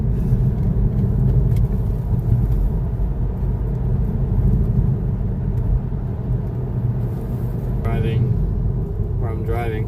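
A car driving along a road with a steady, loud low rumble of engine and road noise from inside the vehicle, and a voice briefly speaking near the end.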